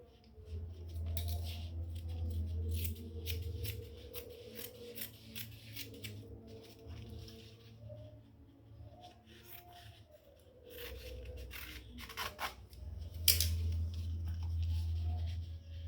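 Scissors snip and slide through shirt fabric folded double on a table, repeated close cutting strokes with pauses, faint rubbing and scraping of cloth between cuts, no talking.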